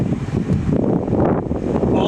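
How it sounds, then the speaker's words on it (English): Strong wind buffets the microphone at a coastal backpacking campsite on Olympic National Park's north coast near Rialto Beach, a steady low rumbling roar with gusty swells running throughout. "It's so windy."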